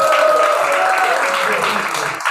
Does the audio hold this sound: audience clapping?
yes